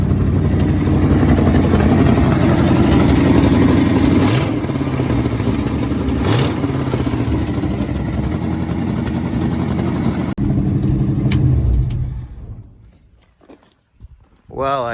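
Overhauled engine of a 1967 Ford F100 pickup runs steadily and loudly at close range for most of the stretch, with a couple of sharp clanks, then cuts off and fades near the end.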